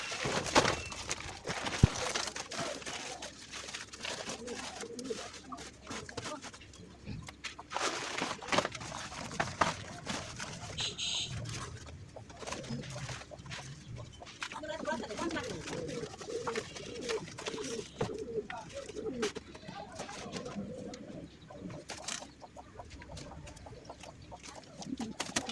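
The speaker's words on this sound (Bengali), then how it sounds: "এখানে আমার দুইটা সাদা ঘুঘু আছে আর একটা বাচ্চা আছে।" Two white doves in a cage coop with a chick coo softly in repeated low calls, faint and close, alongside light rustling and scattered clicks.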